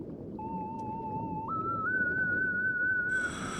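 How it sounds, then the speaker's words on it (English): Underwater sea whistle in the Endless Ocean: Blue World video game: a clear, pure whistle tone that steps upward in pitch in two jumps, heard alone over a soft underwater ambience before a brighter chime enters at the end. "I feel like I need to have that sound bite. The whistle."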